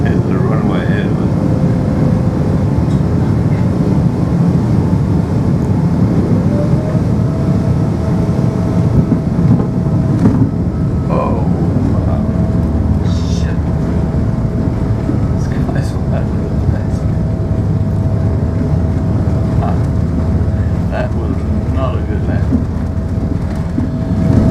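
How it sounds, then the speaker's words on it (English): An airplane makes a very rough landing at Johannesburg Airport, with a loud, continuous roar of engine and cabin noise throughout and a faint steady whine. "and it was a very, very rough landing. But this is what it looked like in Johannesburg Airport"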